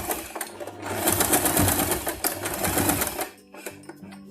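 A sewing machine stitches a fabric loop onto a toddler's turban head, a steady close mechanical whir of rapid needle strokes that runs for about three seconds, then slows and stops, with brief softer bursts near the end.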